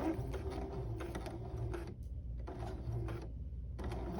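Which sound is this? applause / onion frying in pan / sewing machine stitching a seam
sewing machine stitching a seam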